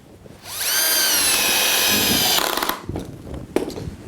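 A power drill drives a screw into Axminster wood plate jaws in a single loud, sustained whirring burst of nearly two seconds, then stops, followed by faint clicks and handling noises.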